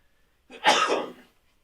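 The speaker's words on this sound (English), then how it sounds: "Excuse me, I sneezed." A single sharp, explosive sneeze bursts out after a moment of quiet, close to the microphone, then trails off into silence.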